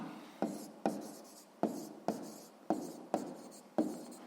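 A pen or pencil writes on paper while a maths answer is noted down, seven distinct close strokes scratching in a steady rhythm, each starting sharply and fading, with no voices.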